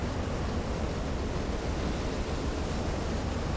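Heavy ocean waves in the submarine game Silent Hunter 3 roar as a dense, continuous wash of surf and wind, loud and steady throughout with no talking.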